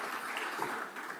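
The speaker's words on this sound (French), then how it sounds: "J'appelle Selganadi, s'il veut bien se joindre à nous, le président, sous vos applaudissements" Audience applause welcoming a speaker at a sustainable-building conference, a brief continuous patter of many hands clapping at moderate level with no voices over it.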